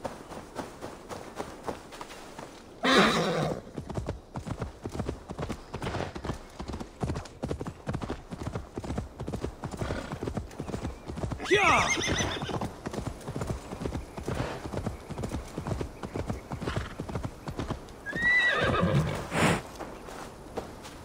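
A horse gallops and neighs in the game Assassin's Creed Valhalla, rapid hoof clip-clops driving steadily throughout, broken by two or three loud whinnies.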